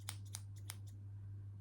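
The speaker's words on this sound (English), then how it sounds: "And then also cat paw scissors, which are just, again, brilliant." Small cat paw scissors handled close up, giving a few quick light metallic snips and clicks in a quiet room over a low steady hum, with no talking.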